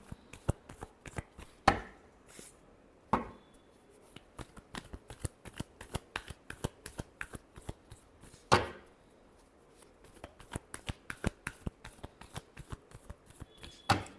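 Tarot cards are shuffled by hand close up in a quiet room, giving a long run of crisp, irregular riffling clicks and slaps with a few sharper snaps.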